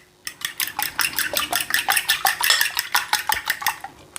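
Sourdough pancake batter mixed in a small bowl, with a quick, steady run of clicking, tapping strokes against the bowl's sides, close and fairly loud, with no voices.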